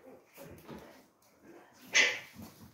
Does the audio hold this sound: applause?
no